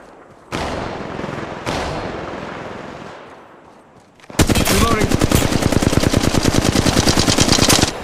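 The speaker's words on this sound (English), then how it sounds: "Opening fire on the enemy." Gunfire in the mobile battle royale game Apex Legends Mobile: two single loud shots, then a sustained rapid automatic burst, close and dominant.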